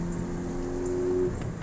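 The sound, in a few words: Ford Focus ST driving after a transmission replacement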